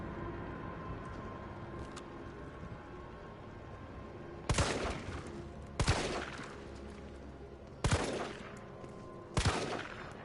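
Four loud handgun shots in the Resident Evil 3 remake game ring out one at a time over a low ambient background. Each is a sharp crack with a short tail, and they are spaced irregularly over several seconds.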